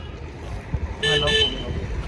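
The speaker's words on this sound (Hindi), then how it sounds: "गाड़ी वाले ने हॉर्न बजा दिया" A short car horn toot sounds twice in quick succession, fairly close, over steady traffic and background noise in Nainital in winter.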